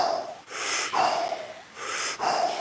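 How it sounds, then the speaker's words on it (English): A deep Wim Hof style breathing cycle: a full inhale followed by a loose, released exhale, repeated twice in a steady rhythm, close and breathy with no talking. "We take a full breath in and just let go."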